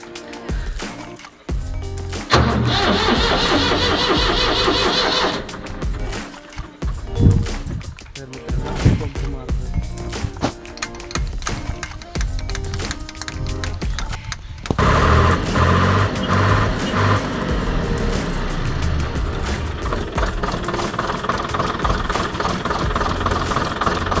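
A Swaraj 855FE tractor's diesel engine cranks and catches outdoors, then runs loud and close with a steady rough idle that rises in intensity partway through, and people talk over it.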